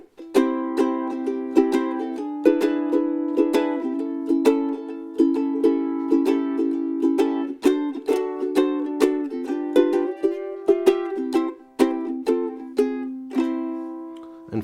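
A ukulele strung with fluorocarbon strings is played solo, bright plucked notes and chords ringing out in a steady, lilting rhythm, close and clear with no talking.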